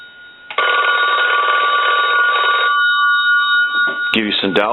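Repaired old Batman telephone with a redesigned circuit gives one long, loud electric bell ring lasting about two seconds, then fades as someone talks close by.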